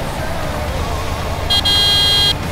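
A tractor horn in Landwirtschafts-Simulator 17 gives two short honks, a brief blip then a longer steady tone, loud over a low engine rumble.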